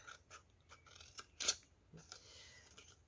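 Scissors snip through folded paper while a homemade advent calendar is being made. Several short, crisp cuts come close and fairly quiet, with one sharper snip in the middle, and a person talks between them.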